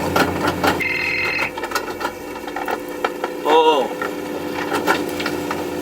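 A phone on a fishing boat chasing croaker off Chuja Island gives a short electronic ring, heard over the steady hum of the boat's engine among other faint onboard noises.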